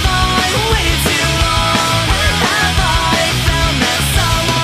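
Loud, dense excerpt of early-to-mid-2000s pop punk band music with driving distorted guitars, steady pounding drums and vocals, continuous throughout with no talk over it.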